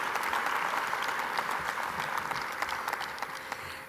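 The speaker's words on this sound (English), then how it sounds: "A round of applause for them." Steady applause from an audience at an awards ceremony honoring a jury, dense clapping that holds for several seconds before tapering slightly, with no talk over it.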